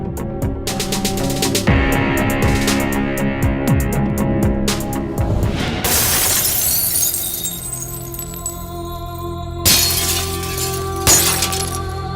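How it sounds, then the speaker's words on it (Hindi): Glass shattering and tinkling in a film scene, with dense crashing fragments layered over music and effects, loud and close for the full length with renewed bursts near the end. "कांच टूटने की आवाज"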